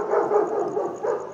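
A street dog in Mumbai barks in a short run of yaps close by, with a brief pause before a final bark, and nobody speaks.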